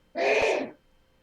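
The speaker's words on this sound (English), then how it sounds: "Who is sneezing?" One sharp sneeze bursts out close by, lasting just over half a second, with quiet before and after and no talking.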